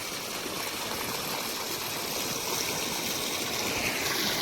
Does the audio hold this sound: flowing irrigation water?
yes